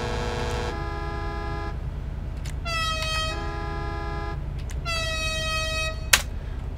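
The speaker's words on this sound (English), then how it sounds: "Air horn." A loud, sustained vehicle air horn in GTA5 Online blares in several long blasts with pauses between them, clear harmonic tones over a steady low hum, with a brief click near the end.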